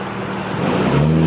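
A Nissan Xterra, an off-road build with modified rear bumpers, pulls up close by, its engine note rising steadily and a low hum growing louder as it arrives.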